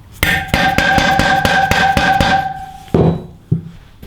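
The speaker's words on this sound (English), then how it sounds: "Give that a bit more of a tap through the middle. And the other bearing comes out." A mallet taps a wheel bearing out of its housing, about eight sharp, ringing metallic knocks in a quick steady series, then a couple of louder, spaced final blows, close up with no talking.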